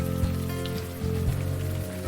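Steady rain falls in the video game Unavowed, a dense continuous patter over a low hum with faint soft thuds, no voices.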